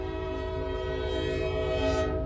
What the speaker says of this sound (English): I hear another horn.